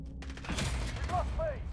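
A short burst of gunfire crackles during a video game firefight, with several close shots in quick succession over rumbling background noise and brief chirping effects.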